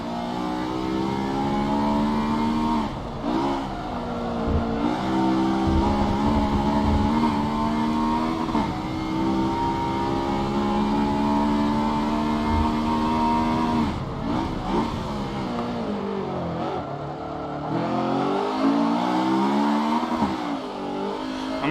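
A Honda S2000 with about 390 horsepower on stock gear ratios revs hard in a racing video game, a loud, close engine whine climbing repeatedly through the gears with brief dips at each shift, no talking.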